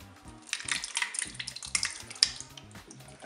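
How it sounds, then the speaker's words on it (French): Crushed tomatoes poured into a Cookeo multicooker pot, a wet, splattering glug with soft irregular plops over a few seconds, backed by a faint low hum. "Je vais mettre les tomates concassées."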